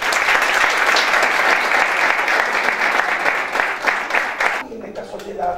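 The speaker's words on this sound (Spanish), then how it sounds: "recibimos con un caluroso aplauso a nuestro orador invitado" A crowd gives a warm welcoming round of applause for a guest pastor about to speak, sustained and dense for several seconds before it tapers off quickly near the end.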